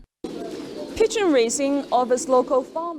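Pigeons cooing at a pigeon breeding farm in Shache district, Xinjiang, a close run of soft warbling coos and calls, loud and continuous.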